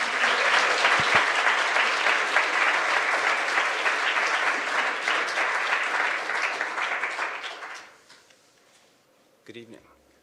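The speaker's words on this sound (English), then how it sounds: "Please join me in applauding them and welcoming them for their lecture tonight" Loud, dense applause from a lecture audience fills the room for about eight seconds before fading out, followed by a brief rustle near the end.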